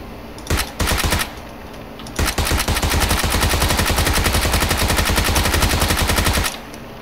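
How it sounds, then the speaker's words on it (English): Rapid automatic fire from a PP19 Bizon submachine gun in PUBG: two short bursts, then a long sustained stream of closely spaced, loud shots lasting about four seconds. "I'm shooting."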